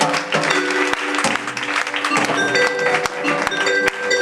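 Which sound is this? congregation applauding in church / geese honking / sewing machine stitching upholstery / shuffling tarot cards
congregation applauding in church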